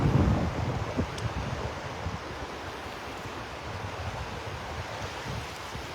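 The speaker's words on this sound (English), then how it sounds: "That wind is starting to pick up." Northeast wind blowing across Delnor-Wiggins beach with surf, a steady rumbling roar of gusts and breaking waves buffeting the microphone, loudest at the start and easing slightly, with no talk.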